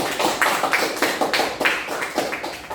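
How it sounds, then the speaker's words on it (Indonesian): A class of students claps for a classmate in a school room, a steady, fairly loud patter of many hands with regular pulses, close by and with no talk over it. "Baik, tepuk tangan untuk Nurul."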